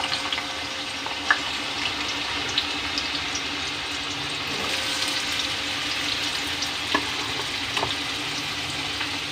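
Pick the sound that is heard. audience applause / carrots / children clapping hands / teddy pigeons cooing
carrots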